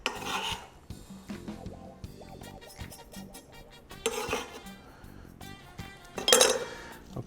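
Utensils scrape, rub and clink against a bowl while grilled shrimp ingredients, including lime, are tossed together in a home kitchen, in irregular bursts of scraping with a few sharper clinks and no talk.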